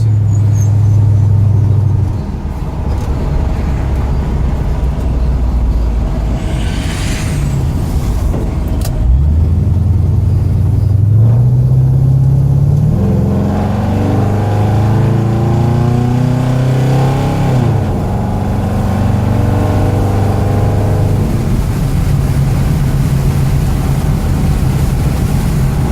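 A 1967 Chevrolet Bel Air with an LS engine swap and a four-speed transmission pulls onto a town highway. A loud, steady V8 drone rises and falls through gear changes, then settles into an even cruising hum heard from inside the car.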